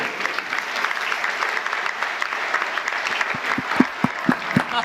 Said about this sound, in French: il s'applaudit lui-même